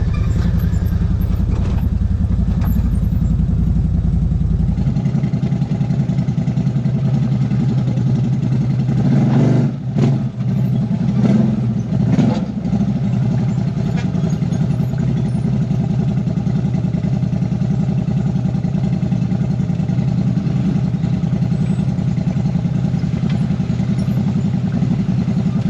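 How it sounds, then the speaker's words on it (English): A side-by-side UTV with a deep, barking exhaust idles steadily at close range, then gives a few sharp revs before settling back into a rumbling idle, with no voices. "That exhaust sounds great. It's really deep. It's got a nice bark to it."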